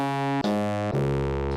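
Yamaha DX7 FM synthesizer with operators in a Y configuration, playing three sustained, bright harmonic tones in succession, each starting with a brief attack and changing pitch at each new note, clean and loud with no talking.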